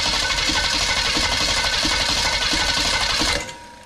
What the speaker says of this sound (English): cranks pretty good.